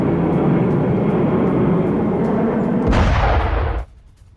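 A MiG-29 fighter jet attack on a drone centre roars as a loud, continuous rumbling blast that surges sharply near the end before cutting off, with no talking.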